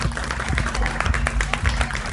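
Audience applause at an art award ceremony in Delhi, a steady dense patter of clapping hands filling the room for the whole stretch, fairly loud and close.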